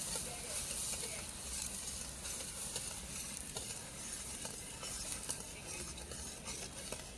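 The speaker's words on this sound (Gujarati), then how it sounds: "આમ બરાબર એને મિક્સ કરતા રહેવાનું." Soft continuous stirring of a thick mohanthal mixture in a pan, with faint sizzling and scraping at low volume and no talk.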